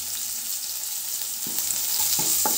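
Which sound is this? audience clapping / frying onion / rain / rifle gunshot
frying onion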